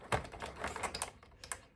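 Blunt scissors snip and tear through packaging, producing a quick series of sharp, close clicks and crunches over about two seconds, with no talking.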